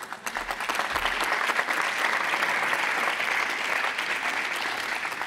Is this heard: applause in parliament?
yes